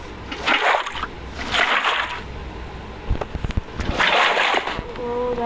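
A Minecraft bucket scooping water in gameplay makes three separate splashy sloshes, each about half a second long and evenly spaced, with a voice talking in between.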